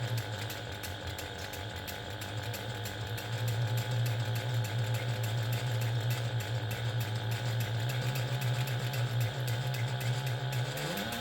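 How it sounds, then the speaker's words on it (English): A sewing machine topstitches along a handbag seam in one continuous, steady, close run with a droning motor hum and a fast mechanical rattle that rises slightly in pitch near the end. "I'm going to top stitch along the seam line using a 1/8 inch seam allowance."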